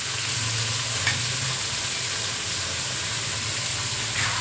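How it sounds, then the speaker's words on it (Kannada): Beans, capsicum and carrot stir-frying in a hot pan, a steady loud sizzle with occasional scraping stirs, close up and continuous with no one talking. "ನೋಡಿ ತರಕಾರಿ ಹಾಕ್ತೀನಿ ಇವಾಗ. ಬೀನ್ಸು, ಕ್ಯಾಪ್ಸಿಕಮ್ಮು ಮತ್ತು"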